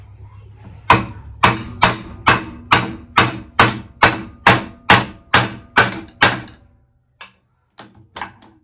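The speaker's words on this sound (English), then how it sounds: "I'm gonna hammer the other side in." Hammer driving a clip onto the other side of a Dodge Ram 1500 front end on a firm surface, a dozen loud, evenly spaced metallic blows close by, then a few faint knocks.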